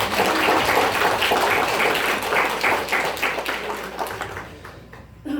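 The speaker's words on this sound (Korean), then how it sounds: "우리 하나님께 영광의 박수 올려드리겠습니다" A church congregation claps during an elder installation and ordination service, a dense burst of applause that starts full and gradually thins out and fades over several seconds.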